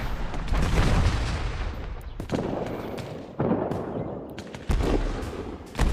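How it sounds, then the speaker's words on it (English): Artillery shelling pounds a town during a toy-soldier American Revolution battle in a video game, a dense rumbling barrage with heavy booms landing roughly every second or so, loud and close, with no talking. "And they're shelling the inner town as well, of course."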